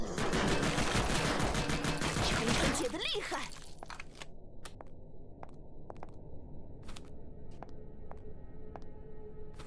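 Gunfire in the Cage of Roses yuri visual novel: a dense burst of rapid shots in the first few seconds, then scattered single shots and clicks over a quieter background with faint talk.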